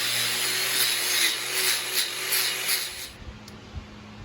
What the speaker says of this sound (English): it doesn't take very long at all to clean these up with the angle grinder and just a 4-inch wire wheel